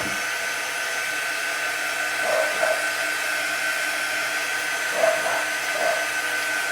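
A hair dryer blows steadily over wet craft paste on a chalk transfer project, a continuous close, loud whirring hum with slight shifts as it is moved, no voices.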